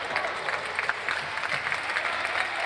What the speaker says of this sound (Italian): E arrivano gli applausi